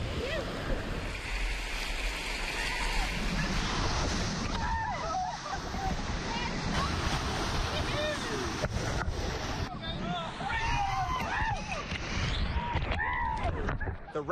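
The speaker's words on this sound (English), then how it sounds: "our boat is steered into the rapids" Rushing Sierra snowmelt river rapids roar and slosh continuously around a raft, with wind buffeting the microphone and voices calling out over the water.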